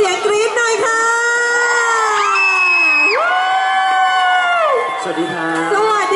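A crowd of fans at a Valentine's Day stage event for a Thai singer shrieks and cheers in a continuous, loud wave of high screams, with excited calls and whoops rising and falling throughout.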